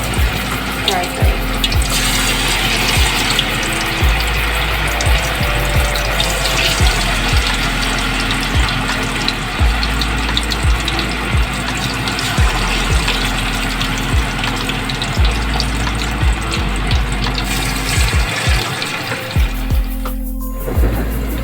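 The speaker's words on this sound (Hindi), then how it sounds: "अब हम इसको डीप फ्राई करेंगे। ऑयल हमारा गर्म है, इसमें मैं लो फ्लेम पे इसको फ्राई करेंगे।" Masala fish deep frying in hot oil over a low flame makes a steady, dense sizzle close by, with a low hum and scattered soft knocks underneath, ending briefly near the close.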